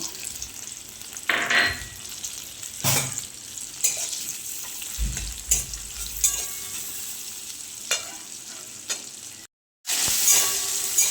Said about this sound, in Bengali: প্রথমে চিংড়ি মাছটা ভেজে নেব